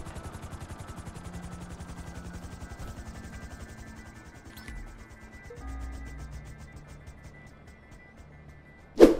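Helicopter in GTA V with a steady, rapid rotor chop running throughout, flying away from a golf club area, with a sharp brief burst at the very end.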